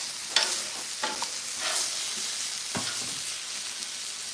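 Oil sizzles on a hot Blackstone griddle, a steady close hiss with a few sharp scraping clicks over it.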